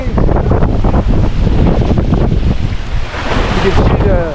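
Strong wind of about 10 to 12 knots buffets the microphone on a boat crossing the Georgia Strait at 6 or 7 knots, a steady loud roar with washing water underneath.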